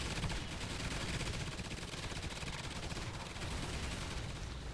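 Sustained rapid automatic fire from a handheld turret in Call of Duty Ghosts Extinction, a loud dense continuous roar of shots with no pauses.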